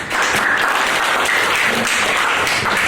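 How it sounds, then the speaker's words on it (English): Steady, loud applause fills the room from the audience at an after-prom hypnotist show, a continuous dense clapping with no pause over its full length. "let's give another big round of applause, ladies and gentlemen"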